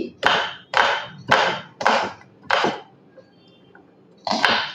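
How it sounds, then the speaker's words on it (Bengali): A knife chops onion finely on a board for spicy ripe mango malpua: five steady, evenly spaced thuds, a short pause, then one more cut, close and clear. "পেঁয়াজটা একটু কুচি কুচি করে কেটে নিতে হবে"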